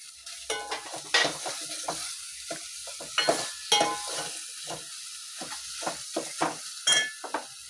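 Misal ingredients being sautéed in a pan, with a steady faint sizzle under repeated spatula scrapes and stirring strokes in an irregular rhythm, close and moderately loud, no talking.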